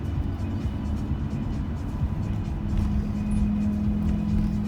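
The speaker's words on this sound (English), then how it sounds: "Wow, there's a lot of traffic in here." Steady road traffic hums around a car near Port Miami, a continuous low engine drone with vehicles moving nearby, moderately loud and without talk.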